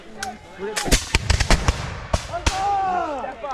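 Reenactors fire muskets at will in a ragged volley: a dozen or so sharp, loud cracks at uneven intervals, some overlapping, with voices talking and shouting between and under the shots.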